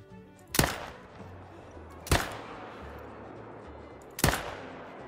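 Three loud rifle shots fired at deer in The Hunter: Call of the Wild, evenly spaced about two seconds apart, each a sharp crack trailing into a long echoing decay over quiet wilderness ambience.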